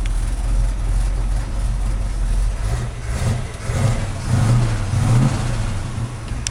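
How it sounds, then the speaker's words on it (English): A 1967 Chevrolet Camaro engine runs close and loud, rumbling at idle and then revving up in several rising surges, with no speech over it. "I'm gonna rev this one up. The motor."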